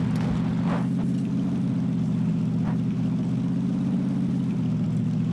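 Car engine in the PUBG battle royale video game, a steady low droning hum that runs unbroken and fairly loud through the whole stretch, with no talking over it.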